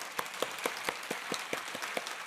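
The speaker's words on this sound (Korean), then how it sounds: "하나님께 다시 한번 감사 박수 올려드리겠습니다." Congregation in a church applauding in thanks during a sermon, a steady, fairly faint run of handclaps with distinct individual claps spaced through the short stretch, no voices over it.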